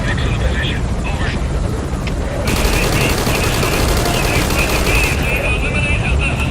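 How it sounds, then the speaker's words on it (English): Gunfire in the video game Metal Gear Solid V, a dense, continuous rattle of shots mixed with a loud helicopter-like drone throughout, with a voice speaking over it. "Gunfire."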